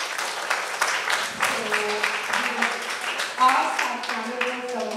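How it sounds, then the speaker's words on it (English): Students at a school prize-giving and craft display receive a round of audience applause, a steady spread of clapping mixed with voices and chatter throughout. "you girls deserve to give yourselves a lusty round of applause one more time"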